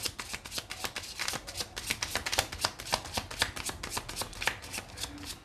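A deck of Gypsy Lenormand oracle cards is shuffled close up during a tarot reading, giving a rapid run of crisp riffling card flicks that keeps going steadily throughout.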